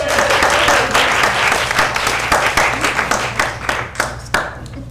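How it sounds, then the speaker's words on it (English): An audience at a live script reading breaks into loud, dense applause that holds steady, then thins into scattered individual claps as it fades out. "All right, round of applause, everyone."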